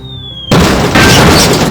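A sentry gun blows up in a Source Filmmaker animation: a sudden loud boom bursts in after a short quiet tone, then sustains as a dense rumbling crackle with a second surge.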